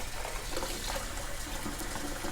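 Water runs from a faucet into a 10-liter collapsible backpacking water bucket in a steady, close splashing gush.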